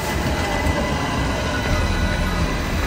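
A tram passes along an Istanbul street, a steady rolling rumble and rail noise that holds at a constant, fairly loud level for the whole stretch, with no talk over it.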